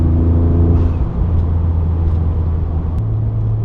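A Ford Raptor in sport mode accelerating in eighth gear, its engine and exhaust giving a loud, steady, deep rumble up close with a slight rise in pitch, no talking over it.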